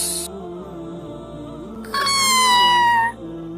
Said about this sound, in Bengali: ফাতেমা ফাতেমা কোথায় যে গেল এই বিড়াল যা যা হুস হুস